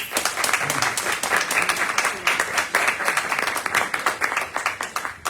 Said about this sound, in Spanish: Un aplauso para ustedes que se han quedado hasta ahora